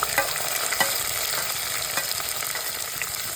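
Ginger, garlic and shallots fry in a pan with a steady crackling sizzle, close and unbroken, punctuated by occasional light stirring clicks and pops.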